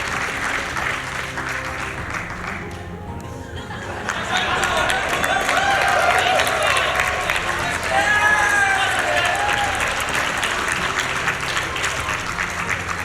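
Audience at the SGDQ 2019 charity speedrun event breaking into sustained applause and cheering that swells and holds steady, loud and full, with voices and chatter mixed in.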